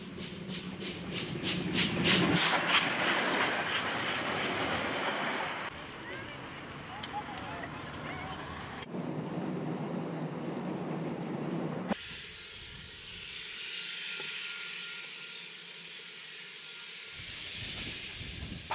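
A train runs past the disused Woodville Railway Station in New Zealand, at the junction with the Wairarapa line. A rumbling, hissing rail noise shifts abruptly between segments, with speech heard at points.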